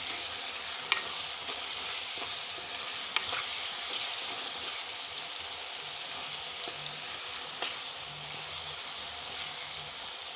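Oil and masala frying in a pan before chicken goes in for a chicken curry, a constant, even hiss of sizzling close by with a few faint clicks and no speech.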